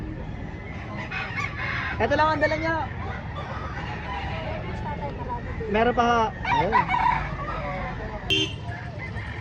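Several gamecock crows ring out at a fighting-rooster market in Lipa, Batangas, two prominent ones in the middle, over steady outdoor background noise and people talking nearby.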